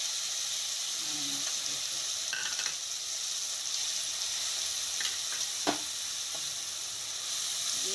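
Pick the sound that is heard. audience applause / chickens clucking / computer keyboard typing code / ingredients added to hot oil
ingredients added to hot oil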